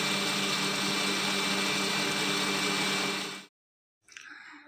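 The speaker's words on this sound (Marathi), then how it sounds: "छानपैकी मी सुद्धा 2-3 वेळा असं थांबून थांबून फिरवून घेतलं मिक्सरमधून" A kitchen mixer grinder whirs loudly and evenly while blending semolina cake batter, a dense close motor roar that cuts off abruptly, followed by a brief faint rattle.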